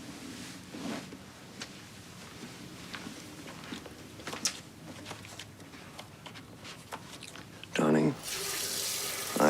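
Water gushes from a tap into a kettle near the end, after quiet kitchen clinks and a brief spoken word.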